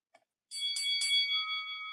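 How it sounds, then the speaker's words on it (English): A small bell rings out clearly after a brief faint tap: three quick bright strikes merge into one sustained shimmering ring that slowly fades, close and alone with no talking. "I gotta find a bell."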